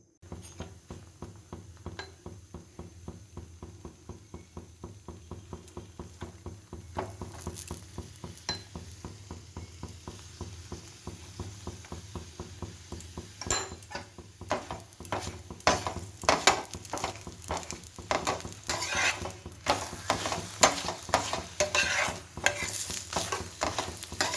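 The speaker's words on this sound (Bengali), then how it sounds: "এখন ফটাফট গরম গরম পরোটা ভেজে নিই" Ghee parathas fry in a hot pan with a steady soft sizzle, while a spatula scrapes and taps rhythmically against the pan, the strokes growing quicker and louder toward the end.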